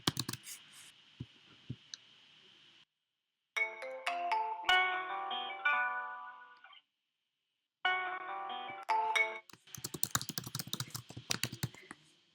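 A Freshcaller helpdesk phone call rings in bursts of bright, repeating electronic tones separated by silent gaps, with computer keyboard typing and mouse clicks heard between and after the rings.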